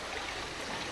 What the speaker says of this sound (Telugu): అది నీళ్ళు ఘోరంగా పడుతుంది, ఒక్కొక్క డ్రాప్ పడుతుంది